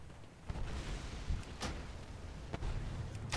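Several sharp gunshots crack out over a dense, noisy World of Warcraft soundscape, spaced unevenly across a few seconds.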